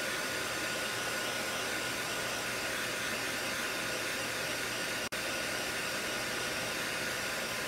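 A hair dryer blows with a steady, loud whoosh from start to finish, briefly cutting out for an instant near the end.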